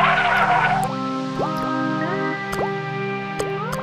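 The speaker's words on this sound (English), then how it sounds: "water dripping from the rocks" Cartoon water drips from rocks, a series of bright plinking drops falling one after another over a steady background hum, distinct and close.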